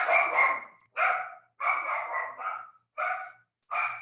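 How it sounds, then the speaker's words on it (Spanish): Several dogs barking from inside a home, six loud bursts of barks and yips in an irregular rhythm, each separated by short silent gaps, with no talking. "Permítanme un segundo y callar a los perros."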